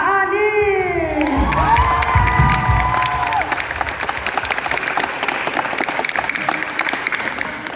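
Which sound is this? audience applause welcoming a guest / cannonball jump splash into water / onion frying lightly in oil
audience applause welcoming a guest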